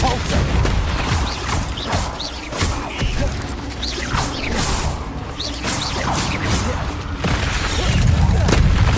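Depulso spell impacts in Hogwarts Legacy: repeated whooshing blasts and booming crashes spread across several seconds over a dense, loud game soundscape, with a fuller surge near the end.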